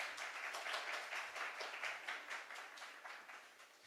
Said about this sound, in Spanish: Muchos aplausos.